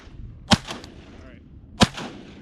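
Two sharp shotgun blasts fired at waterfowl on an opening-day duck hunt in the south zone, spaced about a second apart, loud and close with brief outdoor echo tails.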